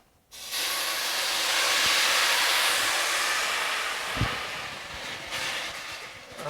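A strong, steady sizzle and hiss rises as white wine hits hot risotto rice in the pan, holding loud for several seconds and slowly easing, with faint stirring clicks.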